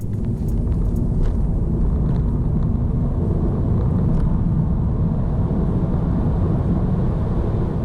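A 2020 Mini Electric car accelerates hard from 30 to 70 mph, heard from inside as a loud, steady low road and wind rumble that stays constant throughout, with no voices.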